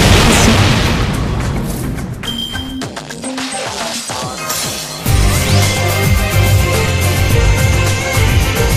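Guided tube launch and boom from the Fate/Grand Order game, heard as a dense wash of effects with low booms, sharp bursts and ringing tones. It swells louder and fuller in the second half.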